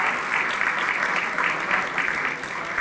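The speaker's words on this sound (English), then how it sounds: "How about a round of applause for Greek Day at the New York Stock Exchange tomorrow?" An audience at a closing dinner and award ceremony applauds for Greek Day at the New York Stock Exchange: dense, even clapping from many hands that holds steady throughout.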